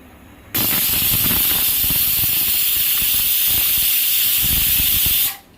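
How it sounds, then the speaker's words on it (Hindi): A loud, sustained hiss of steam bursts out suddenly from a pressure cooker whistle while cooking jackfruit biryani, holding steady for several seconds before cutting off. "1 सीटी हो चुका है, गैस को मैं ऑफ कर रही हूँ"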